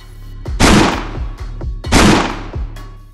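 Two loud cartridge shots fired at a wall, each a sharp broadband crack with a ringing decay, spaced about a second and a half apart, followed by a fainter third report.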